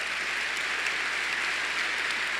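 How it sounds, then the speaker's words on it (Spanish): A church congregation applauds during a Spanish-language sermon on preaching the gospel, giving a steady, even wash of clapping at moderate loudness with no voices over it. "Denle un aplauso al Señor por eso."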